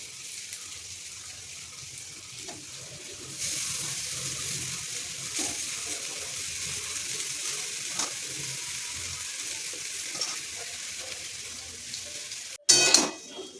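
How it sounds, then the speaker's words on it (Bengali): Chowmein being stirred and tossed with fried onion in a pan, with a steady low sizzle, clinking utensils and scraping throughout, and a louder clatter near the end; no one speaks. "তো তারপর কিন্তু চাউমিনটা দিয়ে এটা পুরো মিক্স করে নিলাম"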